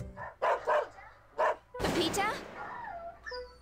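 A dog in the video game Trauma Center: New Blood barks several times, then lets out a long pained yelp and whimper after being shot, with a character's voice calling out briefly.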